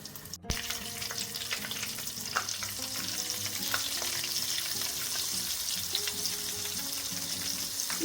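Steady crackling sizzle of battered chicken pieces frying in hot oil, dense and continuous with faint pops and a low hum underneath, no voices.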